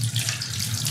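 Tap water running steadily into a sink while a knob of fresh ginger is rinsed by hand, a continuous close splashing rush with no voices.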